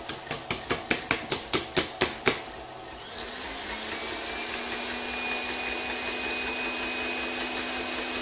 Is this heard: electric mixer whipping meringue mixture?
yes